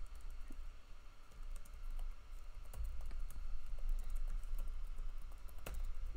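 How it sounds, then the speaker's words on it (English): Keys clatter steadily on a computer keyboard while a new stream title is typed during a Rocket League livestream, quick irregular taps up close with a louder keystroke near the end, no talking. "Hold on, I'm just typing a new title."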